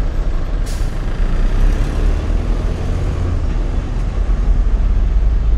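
Heavy congested traffic on the Magallanes flyover: a loud, continuous roar of trucks, buses and cars close by, with a sharp air-brake hiss bursting out near the start.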